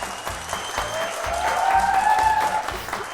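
Studio audience applauding contestants on an Armenian television game show, a steady dense clapping that swells slightly midway and carries on throughout with no voices.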